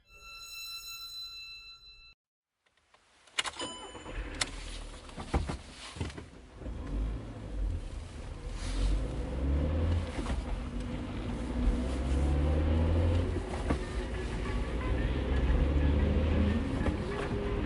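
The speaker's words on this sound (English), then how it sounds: "The car wound its way along a road flanked by towering trees" A car drives along a tree-lined road, a steady low rumble of engine and tyres building and holding after a short silent gap, with brief thumps near the start.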